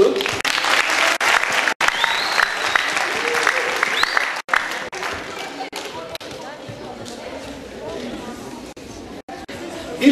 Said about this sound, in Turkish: Moral alkış olsun